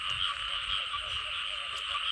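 Frogs croak in a thick, unbroken chorus on a rainy night, a loud buzzing trill that fills the night air without pause.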